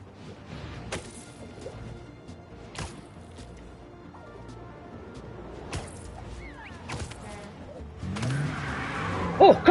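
Cars racing through city streets during a car chase in a Spider-Man video game, with engine noise and occasional crash-like impacts that build louder toward the end while someone talks over it.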